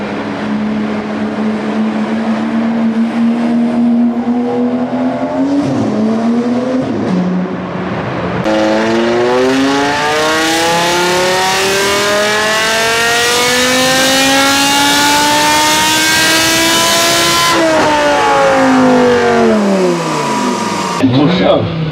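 A supercar engine revs loudly and continuously, its pitch sweeping up and down through repeated climbs as the car accelerates and drifts, close and dominant throughout.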